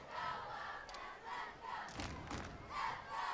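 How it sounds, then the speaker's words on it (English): Wildcat fans cheer and yell in the stands at a high school football game, Weslaco East Wildcats against the PSJA Bears: a large, steady crowd roar that swells in bursts of shouting, heard from a distance. "this drive does have the Wildcat faithful on their feet and cheering"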